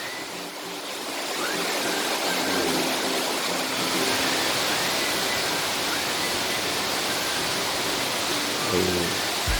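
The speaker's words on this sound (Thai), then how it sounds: "ฝนเริ่มแรงมาก ๆ เลยดูฮะดูคลองน้ำในคลองฮะ" Heavy rain pours beside a water-filled canal in Sattahip, Thailand. It makes a dense, steady hiss that swells early on and holds constant, with no voices.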